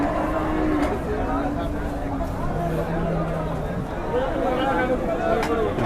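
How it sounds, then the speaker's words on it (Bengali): Cattle at a weekly rural cattle market in Bangladesh, with low lowing calls rising over a constant murmur of crowd chatter and nearby voices talking throughout. "দেখেন অনেক বিশাল গরু কিন্তু এই যে"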